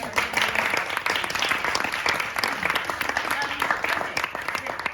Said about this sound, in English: big round of applause for all of them, and for me.